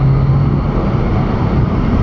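A 760-horsepower Shelby GT500 launches at a quarter-mile drag strip, its engine a loud, low, continuous roar that stays strong and close for the whole two seconds.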